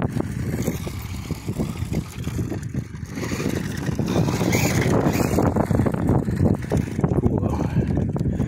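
Tamiya ORV chassis RC car driving outdoors over grass, a steady buzzing motor whine with crackling rough-terrain noise and some wind, while a person talks intermittently.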